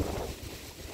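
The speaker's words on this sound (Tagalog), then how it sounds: "Sobrang lakas ng hangin." Strong wind blows outdoors while a golden retriever is walked ahead of threatening rain, a steady roaring rumble that buffets the microphone, loudest at first and then easing slightly, with no voices.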